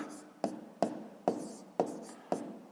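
Pen or chalk strokes on a surface while working a grade 5 decimal addition exercise, five sharp taps at a steady rhythm, each trailing into a short scratch, close and fairly quiet with no talking.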